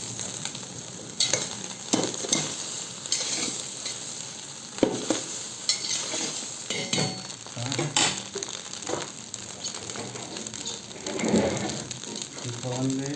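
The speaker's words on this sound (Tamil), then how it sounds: "இப்போ எல்லாத்தையும் நல்லா போட்டு கிளறணும்." Malaysian-style nasi goreng with greens is stirred in a hot pan, a spatula scraping in repeated strokes over a continuous close sizzle.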